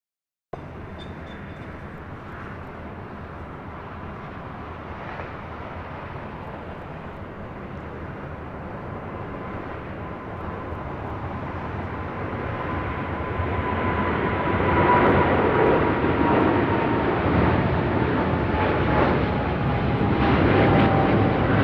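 A heavy Boeing 777 jet departs runway 25R at LAX, its distant engine roar steadily building and growing louder over the span, with a faint whine running through it.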